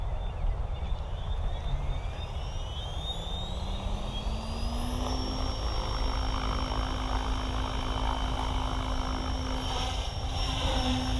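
An SAB Goblin RAW 580 RC helicopter spools up with a gentle soft start, a steady engine whine rising in pitch over the whole stretch, close and continuous, with no talking.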